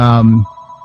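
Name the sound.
mobile phone ringing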